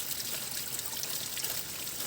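Steady thin trickle of water running at a makeshift drinking spot built from a leaf along a trail, a continuous soft hiss with no voices.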